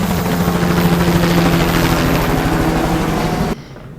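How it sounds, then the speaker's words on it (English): A helicopter drones steadily close and loud as a film sound effect, its rotor thrum continuous before cutting off abruptly near the end. "Or the helicopters are just closing in on you."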